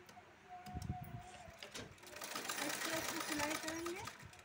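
A sewing machine stitches a buttonhole strip onto lining fabric, running in a steady whir for several seconds with a voice and faint chirps heard at times over the motor.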